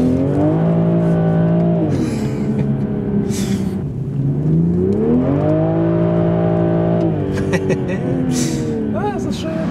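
A 2020 Toyota GR Supra with 340 PS, accelerating hard through a corner as the rear steps out: loud engine revs climb, ease off and surge again, with brief tire noise and a voice now and then.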